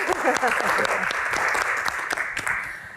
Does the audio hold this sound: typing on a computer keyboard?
no